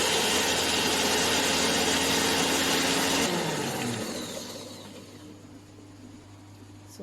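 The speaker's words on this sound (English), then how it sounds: "We need a very fast blending so the leaves don't turn black." A food processor blends basil leaves for pesto, running at a loud high-speed whir for about three seconds, then winding down and fading to a low hum.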